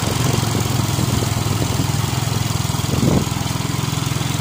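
A motorcycle engine runs steadily and close by at a village fiesta in the province, a constant loud low rumble with no breaks.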